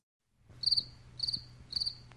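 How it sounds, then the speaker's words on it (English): A cricket chirps three times in an even rhythm, each a short bright high-pitched burst against a quiet low background hum, with no one talking. "Cricket."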